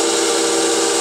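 Light pressure of 120 grit sandpaper on a 3D-printed bearing adapter spinning near 1400 RPM makes a brief, steady, close hiss with a whirring edge and no voices.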